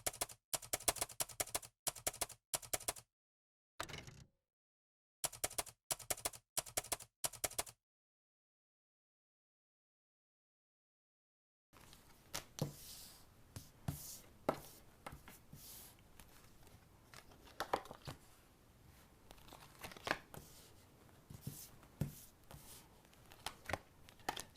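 Tarot cards being flipped and handled during a love reading, giving bursts of quick crisp card snaps and shuffles, then a silent gap, then a long stretch of softer rustling and flicking, close and alone without talk.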